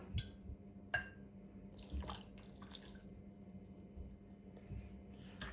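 Hot water is poured into puttu flour in a quiet kitchen, heard as a few faint, short splashing pours and trickles with pauses in between.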